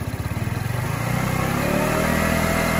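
An engine idles steadily with a low, even throb that settles into a constant running hum.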